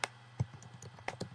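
A computer keyboard is typed on in quick irregular clicks and taps, close and distinct, with no talking over it.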